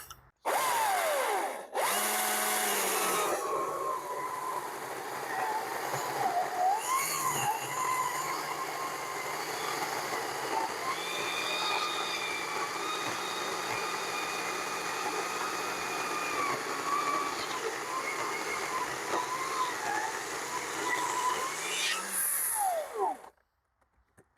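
Greenworks Commercial 82CS34 battery chainsaw fitted with a Husqvarna C33 chain cutting wood, a loud steady whine that holds for about twenty seconds after a brief start, then cuts off at the end.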